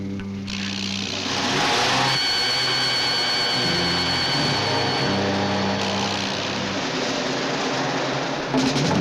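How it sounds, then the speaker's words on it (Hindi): Car engine starting and running in a 1980 Hindi action film, a steady droning motor with shifting pitch steps that holds for several seconds, fairly loud and close, with no talk. "गाड़ी स्टार्ट कर।"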